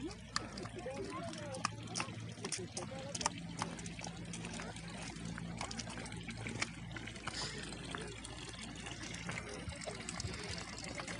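Water from a mountain spring trickles and splashes steadily nearby in Solang Valley, Manali, with a person talking over the continuous flow.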